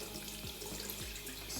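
Cold water runs steadily from a kitchen tap into a sink while paneer is rinsed, a continuous close splashing hiss with no voices.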